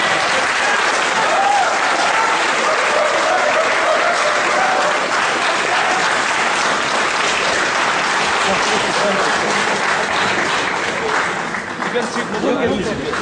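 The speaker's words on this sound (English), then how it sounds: "can we give them a round of applause?" Loud, dense audience applause for candidates contesting for chairman at a campus soapbox event, sustained at full strength for several seconds before thinning slightly near the end.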